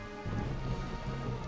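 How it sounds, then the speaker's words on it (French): Steady rainfall in the Four Swords Adventure video game, a soft, even hiss of falling rain, faint and continuous with no voices over it. "il pleut trop, c'est chiant."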